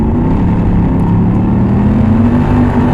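A 2008 Mercedes CLK 63 AMG Black Series accelerates hard, its engine roaring loudly and steadily throughout with a deep, continuous drone heard from close by.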